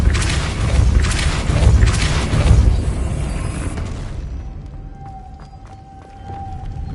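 A Depulso spell cast in Hogwarts Legacy on PS5 Pro: a dense rumbling burst with crashing debris for a few seconds, then fading to a quieter magical hum with light clicks.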